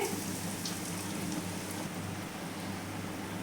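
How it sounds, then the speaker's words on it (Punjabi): Bread pakoras fry in hot oil with a dense, even sizzling hiss that stays loud and unbroken throughout, close up and with no voices over it. "ਤੇਲ ਵਿੱਚ ਛੱਡ ਦਵਾਂਗੇ ਹਲਕੇ ਹੱਥਾਂ ਦੇ ਨਾਲ"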